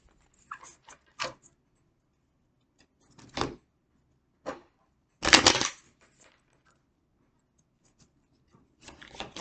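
Tarot cards being shuffled by hand: several separate short riffling bursts, close and crisp, with quiet pauses between them and one longer, louder shuffle near the middle.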